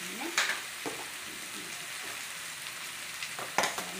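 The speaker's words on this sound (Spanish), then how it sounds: "Ahí que se sofría la verdura" Chopped onion and vegetables sauté in a pan for chow mein, a steady low frying sizzle with a few brief utensil clinks and scrapes near the start and end, no talk.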